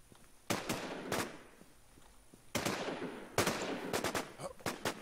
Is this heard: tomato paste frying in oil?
no